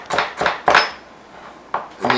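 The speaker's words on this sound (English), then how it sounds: "I'm going to chop this up" A knife chops ginger on a cutting board in a home kitchen, giving about five sharp, close chopping knocks at an uneven pace with a short pause before the last ones.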